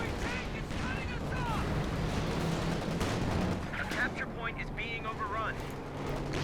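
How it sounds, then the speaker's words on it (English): A 105 artillery barrage in Company of Heroes 2, a spread of distant booming shell impacts and rumbling gunfire in a busy battle mix, heard under ongoing commentary. "He's calling in 105 artillery on it"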